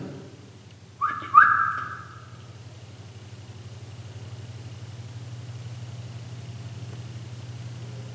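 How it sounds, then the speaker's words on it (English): A short whistled note, then a brief rising second one, rings out inside an old fort at night, faint against a steady low engine-like hum that continues alone afterward. "Someone whistling."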